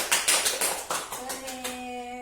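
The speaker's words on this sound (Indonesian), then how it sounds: "Bisa beri aplaus untuk kelompok 2." Classroom applause for a student group, a quick burst of several loud claps from a small group that fades out within two seconds, followed by a faint tonal hum.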